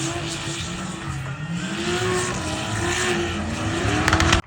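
A race car engine at a racing circuit, revving loudly with rising and falling pitch as it shifts gears and passes close by, ending abruptly after a few seconds, with no talking.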